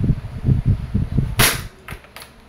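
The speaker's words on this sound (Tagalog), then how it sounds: "this is the Glock 45 by ENC Gen 5 airsoft gas blowback pistol" An E&C Glock 45 Gen 5 airsoft gas blowback pistol fires one sharp, loud crack with a bright burst of gas, followed by a couple of fainter clicks as the slide cycles.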